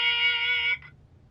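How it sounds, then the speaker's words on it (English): A single answering machine beep in The Wolf Among Us video game: one loud, steady electronic tone that holds for most of a second, then cuts off into near silence. "leave a message at the beep and we'll get back to you as soon as"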